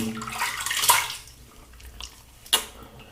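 Running water rinses menthol shaving soap off the face, a soft splashing wash that swells and fades, followed by a short, sharper splash near the end.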